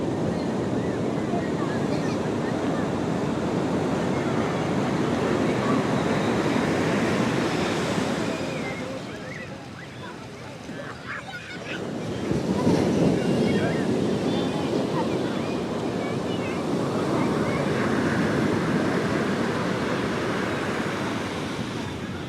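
Rough sea at Puri beach on a new-moon night roars with continuous surf and wind. The crash of waves dips briefly midway, then surges back loud and close.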